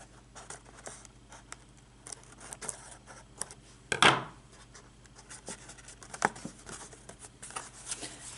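Scissors trimming excess paper from an abstract cut-paper art piece, with soft scattered snips and rustles throughout and one louder crisp snip standing out midway; no one speaks.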